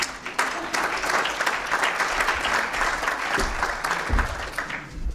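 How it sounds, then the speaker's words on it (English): Steady applause from an audience, many hands clapping at once, sustained and fairly loud throughout. "Applause, applause, applause."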